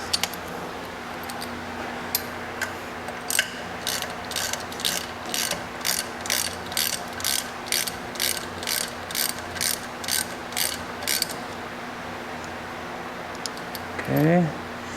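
Ratchet wrench loosening a bolt on a 1972 GMC 3500 wrecker truck, a steady series of about eighteen rhythmic clicking strokes, close and clear, with a voice briefly at the end.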